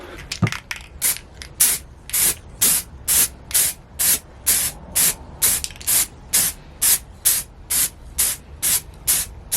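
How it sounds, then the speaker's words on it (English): Rapid bursts of aerosol spray paint hissing out in short, evenly spaced blasts on a Vauxhall VXR car, close and loud, repeated about twenty times with brief gaps. "So let's give it a go and spray it up."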